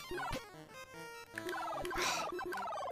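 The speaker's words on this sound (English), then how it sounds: "I don't know how to avoid these birds." Bird calls in the Dr. Jekyll and Mr. Hyde video game: rapid, repeated gobbling, turkey-like squawks, overlapping and close, forming a continuous chattering cacophony.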